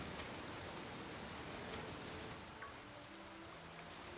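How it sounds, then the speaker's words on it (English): Steady hiss of rain in a Pokémon video game, a dense, even wash of falling drops with no pauses, fairly faint and unbroken throughout. "This rain makes everything worse."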